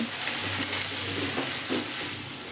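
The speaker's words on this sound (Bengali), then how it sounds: "এটা আবার ওই এক থেকে দেড় মিনিট মতো একটু কষিয়ে নেব" Boiled potatoes and raw banana cook in a pan after a splash of water, giving a dense, even, close sizzle with soft stirring movement and no speech.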